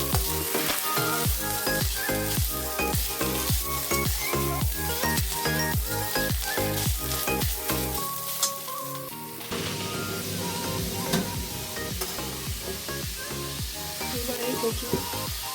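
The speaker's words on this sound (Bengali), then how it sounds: "নারকেলটা লাল করে ভাজবো।" Grated coconut fries in a pan for a taro-leaf dish, a loud continuous sizzle with rapid rhythmic scraping and stirring strokes throughout, briefly easing midway before the crackling resumes.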